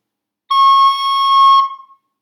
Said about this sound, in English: if it sounds too high